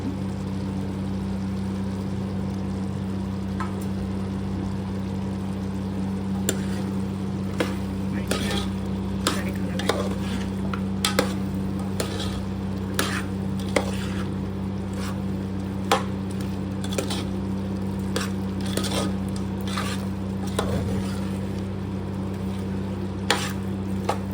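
Chicken curry gravy bubbling and sizzling in a pan while a spoon stirs it with repeated scraping clicks, steady and close over a constant cooking hiss, no talking.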